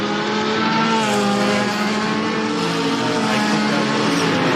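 A BMW Z4 race car in the Assetto Corsa racing game drones loudly and steadily, its engine note rising and falling slightly as revs climb, close and continuous throughout, with no speech.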